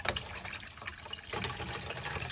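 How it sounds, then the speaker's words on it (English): Water rushes steadily through a float valve into a cold water storage tank, a continuous close hissing gush with slight gurgling variation and no talk. "water's now coming through."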